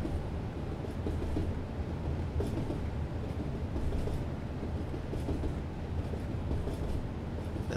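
A Class 37 diesel locomotive runs steadily with a continuous deep rumble and a faint rhythmic rail clatter, heard from on board and fairly constant, with no speech.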